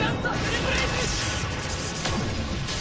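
An explosion in the Seven Deadly Sins Grand Cross mobile game makes a loud, dense roaring burst that fills the whole stretch without letting up, and a voice seems to speak over it.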